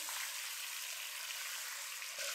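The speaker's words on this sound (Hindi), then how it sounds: "चिकन को हमने फ्राई करना है हल्का सा।" Chicken pieces fry lightly in oil in a pan over a medium flame, giving a constant soft hiss of sizzling that stays even and fairly quiet throughout, with no voices.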